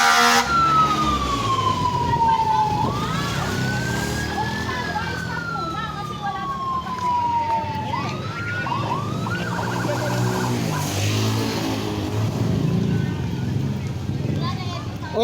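Fire truck sirens wail and sweep up and down as fire engines arrive at a house fire in Pulo, Talon, Las Piñas City, loud and near and continuous, with people talking over them.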